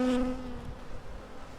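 Africanised honey bees swarm around a hive box from an aggressive colony, a steady insect buzz with a droning tone that starts loud and up close, then settles into a softer continuous hum.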